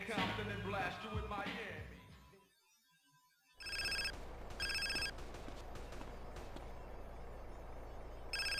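Phone ringing in the video game GTA San Andreas: a repeated electronic ring in steady bursts after a brief silence, with game dialogue and background noise before it.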